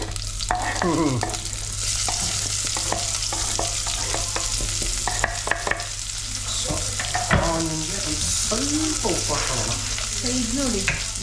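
Marinated slices frying in a pan toward golden brown give a steady loud sizzle, broken by the clatter and scrape of stirring throughout.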